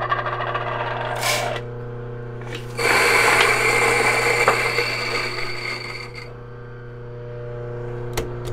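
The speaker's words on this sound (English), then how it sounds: "Let's grind some coffee beans." An electric grinder grinds coffee beans in a roughly three-second burst of loud, steady whirring that rises abruptly and then cuts off, with quieter room sounds before and after.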